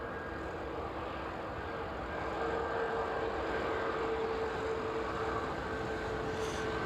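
An aircraft arriving at East Midlands Airport makes a steady, distant engine rumble and whine that holds evenly throughout, with no talk.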